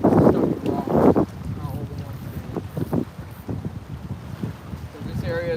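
Strong wind buffeting the microphone at night on a rocky Florida flat while fishing from a boat, gusting loudly at first and then settling into a steady rushing roar with faint water and handling sounds.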